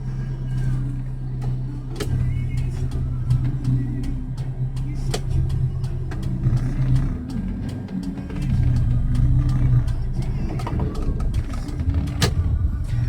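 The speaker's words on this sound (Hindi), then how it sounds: "गाड़ी ऑलरेडी स्टार्ट है, गर्मी बहुत है तो गाड़ी को हम स्टार्ट ही रखते हैं।" A parked car's engine idling during a night driving lesson, a steady low hum close by with scattered clicks and small mechanical knocks over it.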